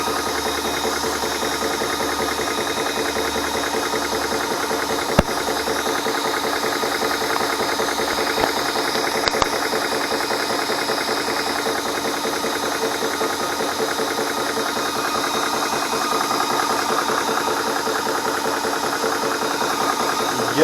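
A Spritech 4500 PSI PCP air compressor for air rifles pumps steadily toward 3,000 PSI. It makes a loud, continuous mechanical chugging and rattle close by, with a few sharp clicks.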